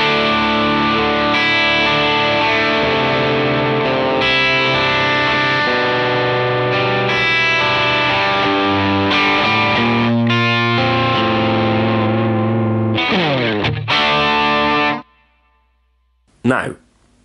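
Electric guitar through a Matchless DC30 amp model in Helix, channel 2 with drive at 10, plays crunchy distorted chords and riffs loud and alone, ending with a quick rake before cutting out.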